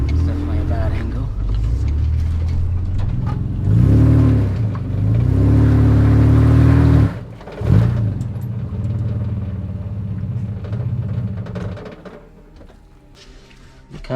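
A Toyota Landcruiser's engine revs hard on a slippery, rutted off-road climb, rising and falling in loud surges before cutting out abruptly, then a lower idle rumble trails off; voices talk over it.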